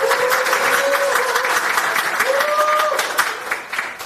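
Sustained applause fills a meeting room at the start of a Busan maritime-protection stakeholder meeting, greeting a Democratic Party leader. Dense, steady clapping runs throughout with faint tonal feedback or whistle-like tones over it.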